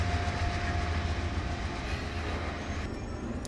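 A Norfolk Southern NS-265 double-stack freight train rumbles past at about 25 mph, a loud, continuous roar of wagons with faint rhythmic clatter and no break in the sound.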